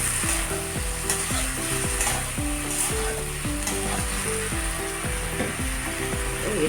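Potatoes are stirred as they fry in a pan with other vegetables for a fish curry, giving a steady sizzle broken by repeated scraping strokes at an even rhythm, close and fairly loud, with no voices.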